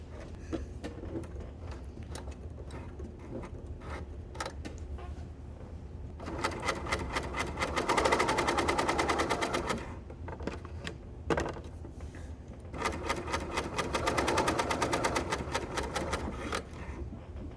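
A Brother L890 serger running as a coverstitch machine, with quiet handling and rubbing at first, then two sustained bursts of dense, rapid mechanical stitching, each lasting a few seconds with a pause between.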